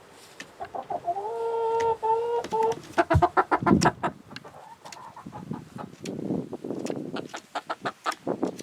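Chickens cluck and squawk close by in quick bursts, one drawn-out call near the start, with rustling and handling noises mixed in.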